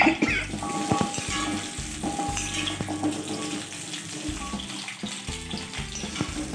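Gooseberries sizzle and fry in hot sesame oil for a pickle, with continuous crackling and spattering and intermittent scraping stir sounds close up, no talk.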